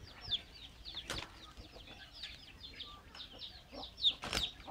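Soft, scattered clucking from a fighting-breed hen, faint and nearby, with a few brief rustles and knocks in the background.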